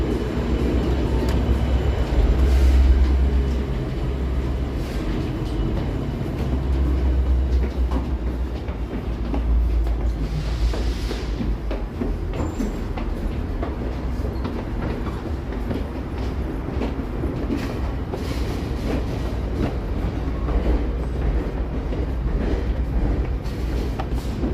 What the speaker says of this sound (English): We'll get to get a close-up look at the GO train pulling in.